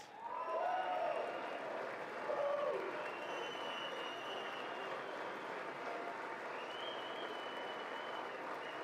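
A crowd at a State of the Union address applauds with scattered cheers. The clapping is steady and sustained, and faint voices rise above it.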